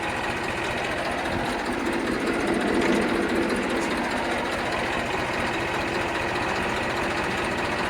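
A Massey tractor with a freshly overhauled engine idles steadily and loudly nearby, a continuous rough diesel rumble with no pauses or voices.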